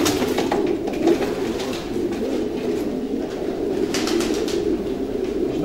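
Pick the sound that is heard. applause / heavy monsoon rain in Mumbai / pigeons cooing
pigeons cooing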